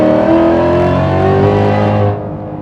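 A Shelby GT500 launches hard as its engine roars at high, steady revs while the tires fail to hook up. The sound is loud and close, then drops off sharply near the end.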